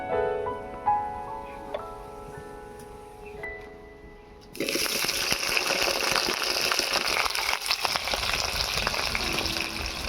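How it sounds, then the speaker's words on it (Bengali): Potatoes drop into hot mustard oil in a wok with a sudden loud hiss that becomes a steady, crackling sizzle. Quieter tonal sounds come before it. "এবারে কড়াতে সরিষার তেল দিয়ে দিচ্ছি আলুগুলো ভাজার জন্য।"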